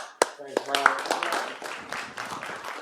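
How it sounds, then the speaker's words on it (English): Audience applause at a closing session of an academic event, a few sharp early claps building into scattered clapping from a small crowd while someone speaks over it. "So one applause for Dorothea as well."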